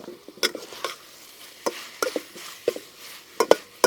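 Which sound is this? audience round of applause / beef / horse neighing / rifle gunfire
beef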